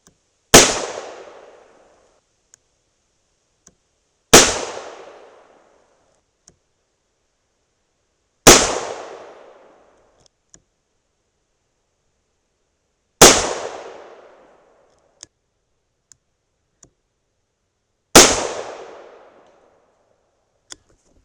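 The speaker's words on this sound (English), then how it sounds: "We'll continue shooting at that center dot" Five sharp .38 Special +P revolver shots with 125-grain Hornady XTP loads, fired one at a time about four seconds apart, each a loud close crack with a short decaying ring, and faint clicks in the quiet between.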